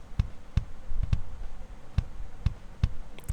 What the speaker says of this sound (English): This is how the kick sound without any plugin.